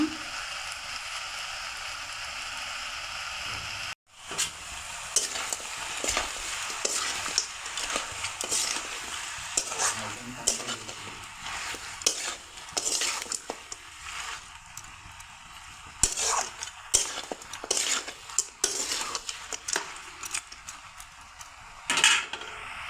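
Mutton kasha stir-fried in a pan, with a steady sizzle throughout and repeated scraping and clinking of a spatula against the pan, briefly interrupted near the start, close and fairly loud.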